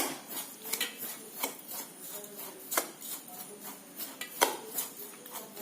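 Grated coconut and sugar stirred in a pan for wheat and rice laddu, with repeated soft scraping and light clinks of a spoon against the metal, fairly quiet and close, with no talking.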